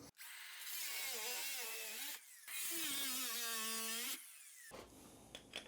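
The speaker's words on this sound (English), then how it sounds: "I took the guard off of my grinder because I need to get this last little 3/4 inch piece cut to the tile" An angle grinder with its guard removed cuts a small piece of 12 x 24 tile at a tub surround, making two loud, close bursts of whining, grinding cutting whose pitch sags under load, followed by softer scraping.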